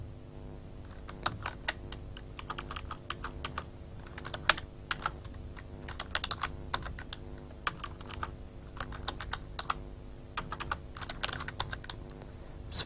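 Steady typing on a computer keyboard, a rapid run of crisp, close key clicks in bursts and short pauses over a low electrical hum, with no talking.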